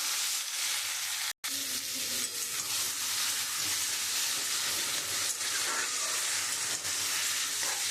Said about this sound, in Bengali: তেলের মধ্যে আমি শুকনো লঙ্কা, তেজপাতা আর জিরে, আমি ওই তেলের মধ্যে কচুটা যে সিদ্ধ করে রেখেছি আমি ওটা এখন দিয়ে দেবো।